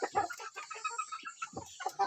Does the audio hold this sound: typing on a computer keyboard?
no